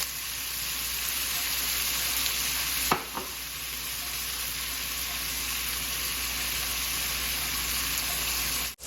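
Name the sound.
onions frying and stirred in bacon fat in a pot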